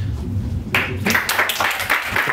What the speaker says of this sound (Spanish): Y un aplauso para todos ustedes que participaron.